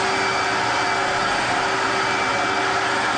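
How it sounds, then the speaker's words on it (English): A Rotovac carpet cleaning machine runs with a steady, loud vacuum-like whine and motor drone, unchanging for the whole stretch with no talk. "when I'm cleaning with the Rotovac, I'm standing with my back straight and letting the machine do the work with one hand"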